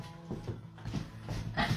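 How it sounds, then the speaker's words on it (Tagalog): A dog just woken from sleep whimpers and whines indoors in a few short, broken bursts, close and fairly loud, at a family New Year gathering. "Bagong ginising si Aso"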